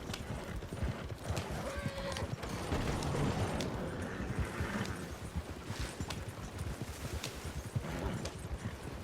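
Horse hooves walking in the video game Red Dead Redemption 2, a steady clip-clop rhythm of hoofbeats throughout, moderately loud under faint background game sounds, with no talking.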